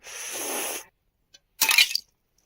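Frozen ice layer in a vessel cracking and breaking like glass on a cold hillside in winter, a sharp close crunch after a longer rustling scrape.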